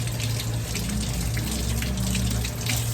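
Water runs from a tap in a steady, loud gush that continues unbroken for the whole stretch, close by, with no voices.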